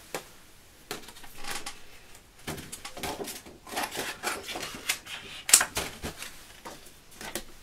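Scissors cutting paper circles for a birth card, a quiet run of irregular snips and crisp paper rustles close by, with one sharper click near the end.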